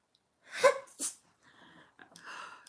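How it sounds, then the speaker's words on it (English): A single loud sneeze bursts out close by, followed by a sharp intake of breath and softer rustling breaths as a woman recovers during an indoor makeup session. "once I start sneezing, I'm gonna sneeze like 16 times"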